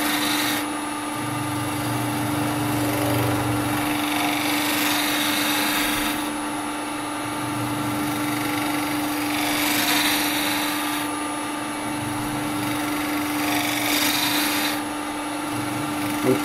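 A carbide chisel cuts a resin bowl spinning on a woodturning lathe, with steady motor hum under repeated scraping, rasping passes that swell and fade every few seconds.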